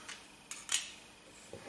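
A metal spoon clinks against the sides of a cup while stirring salt into water, producing a few quiet, sparse taps.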